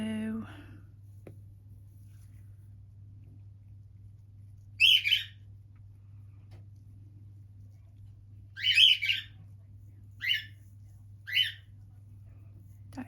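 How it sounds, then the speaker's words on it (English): Pet birds indoors give short, shrill squawks in bursts, one at first and then a quick run of three. The calls sound nearby over a low, steady hum. "I don't know what's going on with those birds today."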